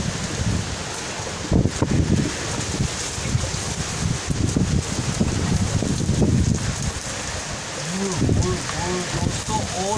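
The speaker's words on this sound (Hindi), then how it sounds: "बहुत तेज़ बारिश हो गई" Heavy rain pours steadily with gusting wind rumbling against the microphone, a stormy wash of noise throughout.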